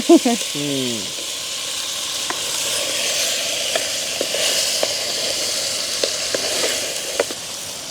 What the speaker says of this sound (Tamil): உடைச்சி வச்சிருக்கிற நண்டை நாங்கள் இதோட சேர்த்துக்கொள்வோம்